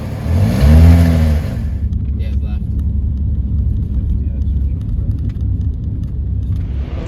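A V6 Mark 1 Ford Galaxy with a slight exhaust blow gives a brief loud rev, then settles into a steady, close engine drone while driving.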